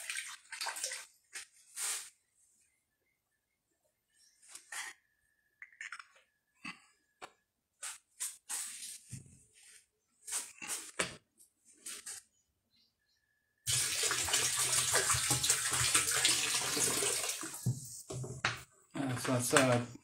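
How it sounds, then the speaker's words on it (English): Running water from a tap rinsing a pH meter during home fermentation work, a steady close splashing flow in the final seconds after intermittent handling noises and quiet sounds. "Just rinse the pH meter."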